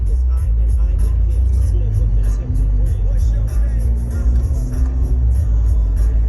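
A car drives down 16th Street in Chicago with a steady, loud engine and road rumble close by, and someone talks over it throughout.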